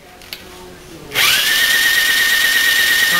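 An electric drill motor fitted with an 11/16 socket spins up abruptly and holds a loud, steady whine as it turns over an Onan P220G engine.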